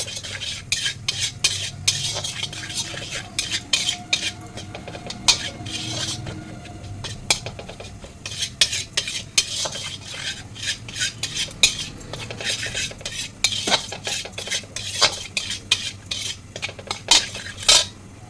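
Gram flour being dry-roasted in a pan for elephant-foot yam curry, with a metal spoon scraping and clattering repeatedly against the pan over a faint sizzle, close and continuous for the whole stretch.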